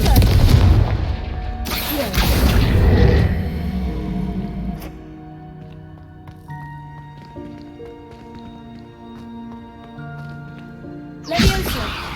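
A Confringo fire spell goes off in Hogwarts Legacy, a loud fiery blast up front that rumbles and fades into a long tonal musical tail, with another sharp burst at the end.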